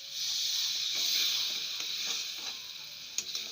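Water poured into a hot pan of mustard and rice paste for a tangy mango dish sizzles with a steady bright hiss that fades slightly, followed by a few light clicks near the end.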